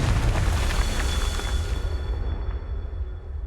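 A Confringo fire spell from Hogwarts Legacy goes off as a loud, sustained booming blast with rumbling low end, fading slightly toward the end with a faint ringing tone.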